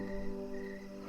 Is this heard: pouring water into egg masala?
no